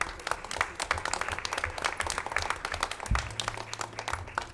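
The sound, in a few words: audience applause for students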